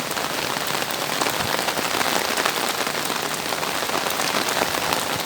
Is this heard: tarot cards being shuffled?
no